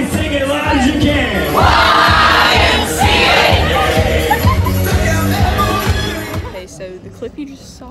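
Crowd aboard a cruise ship at a Groove for St. Jude fundraiser singing and shouting loudly together, a dense, boisterous mass of voices with music underneath that thins out toward the end.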